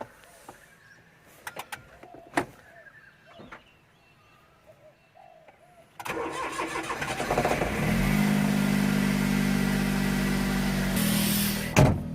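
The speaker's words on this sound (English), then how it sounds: "Into sixth gear at 80 down the on-ramp, and we can leave it there for the rest of the trip." A Smart 450 starts up after quiet moments of birds cooing outside, then its small engine runs and revs steadily as the car drives off, a loud close drone that holds for several seconds.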